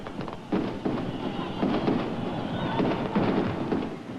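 Fireworks bursting over Bethlehem on Christmas Eve, a dense series of rumbling booms and crackles rolling on at moderate volume, several louder swells standing out against continuous background noise.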